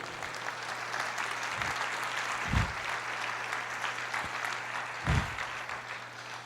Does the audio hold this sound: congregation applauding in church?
yes